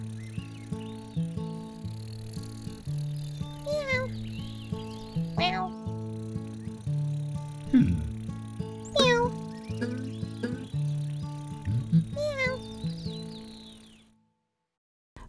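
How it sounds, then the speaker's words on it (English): A kitten meows repeatedly over a steady musical backing, its cries rising in short bursts every couple of seconds before the sound cuts off. "Grock got help from Sam to get the kitten down"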